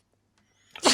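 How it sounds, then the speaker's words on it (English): A quiet pause, then a single sharp sneeze bursts out at the very end, loud and close. "It's a rush when you sneeze."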